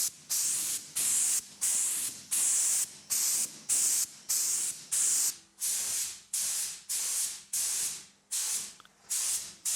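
Airbrush spraying car paint, a sharp hiss in roughly fourteen short regular bursts with brief pauses between them, close and steady with no talking.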